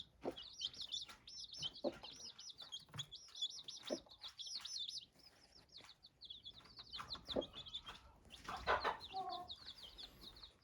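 Busy chatter of chicks with rapid high chirps and occasional clucks from a hen in a coop, near and continuous, with brief soft noises in between.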